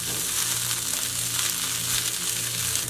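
Kidney beans sizzling in a frying pan, a dense continuous hiss held close and loud throughout.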